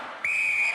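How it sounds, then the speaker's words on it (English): A referee's whistle gives a single sharp, sustained blast to start the eliminator race on Gladiators UK in 1993. It sounds loud and close and holds steady until the clip ends. "Gail, you will go on my second whistle."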